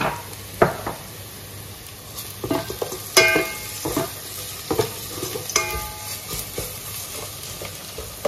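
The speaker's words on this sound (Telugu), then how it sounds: "అల్లం పేస్ట్ వేసిన తర్వాత చాలాసేపు వేగనియొద్దు, ఎందుకంటే అల్లం పేస్ట్ అనేది మాడిపోతుంది" Ginger paste and onions frying in a pan for egg pulao, a continuous sizzle broken by several scraping stirs of a utensil against the pan, close and with no speech.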